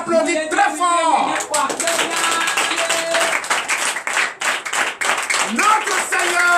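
A church congregation at a Sunday service in Comè, Benin claps loudly in a burst of applause, with cheering voices and singing mixed through the rapid clapping.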